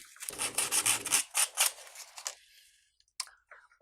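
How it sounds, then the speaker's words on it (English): An MDF tree base being sanded smooth by hand: a quick series of rhythmic rasping strokes, close and crisp, then a pause and a few lighter scuffs. "let's just go ahead and give that a sand. And sand that smooth"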